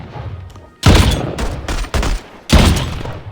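Gunfire in the co-op alien horde shooter Earthfall on Switch, loud close bursts in three or four heavy volleys separated by brief pauses, with no talking.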